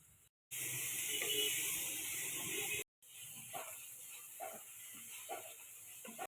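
Masala paste of onion, tomato and ginger pastes with salt, turmeric, green chillies and sugar frying in a pan for a pomfret fish curry: a loud steady sizzle, then a cut to softer sizzling broken by scraping stirs.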